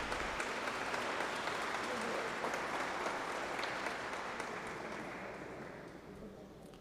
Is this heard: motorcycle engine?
no